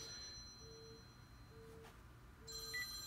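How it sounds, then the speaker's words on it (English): An iPhone 7 sealed inside a 50 caliber metal ammo can rings faintly, a quiet electronic ringtone with thin tonal bursts over a low background hiss. "You can hear that ringing right now."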